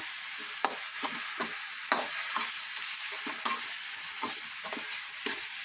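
Eel dry stir-fried in a pan, a steady close sizzle broken by sharp rhythmic scrapes of a utensil against the metal about once a second, with no voices.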